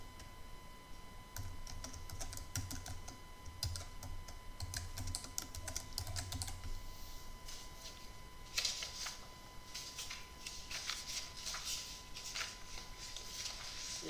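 Bursts of quick, light key taps on a computer keyboard as a title is typed into a PowerPoint slide, close and fairly quiet, running in clusters separated by short pauses.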